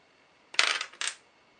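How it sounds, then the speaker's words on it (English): Dice clatter across a tabletop during a Battle of Britain 1940 RAF board wargame, two quick rattling bursts close by, the first longer than the second, with no talk. "we roll a dice to see what damage is done."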